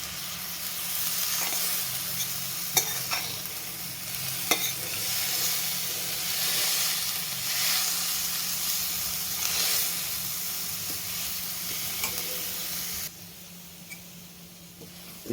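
Coconut pieces frying in a pan give a dense, continuous hiss and sizzle with a few sharp spatula clicks. The sound stays close and even, then drops noticeably quieter near the end.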